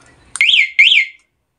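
A two-way motorcycle alarm gives two loud, close, rising-and-falling electronic chirps in quick succession, then stops into silence.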